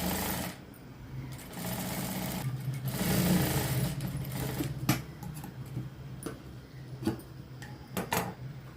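A sewing machine runs a straight half-inch seam along a blouse hem, a steady low mechanical whir with irregular clicks and taps scattered through it, close and fairly quiet, with no talk.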